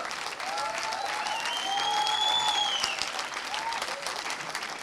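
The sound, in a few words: audience applause at a film festival ceremony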